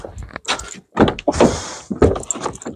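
A car door handled and slammed shut, a few sharp thunks and rattles between short pauses, with one heavier, noisier burst in the middle; close and fairly loud, no talk.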